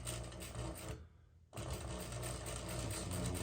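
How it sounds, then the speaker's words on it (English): A sewing machine stitching pillowcase fabric, a steady close mechanical whir and rapid needle chatter that cuts out for half a second, then starts up again and runs on evenly. "from here, I'm just gonna keep on sewing"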